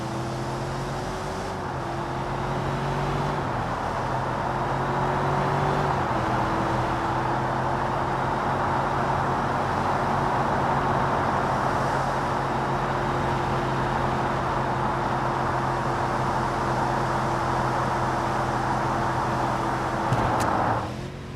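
An Infiniti QX80 SUV drives in the BeamNG driving game, giving a steady, loud engine and road drone with a shifting engine tone early on, then a sustained hum for the rest.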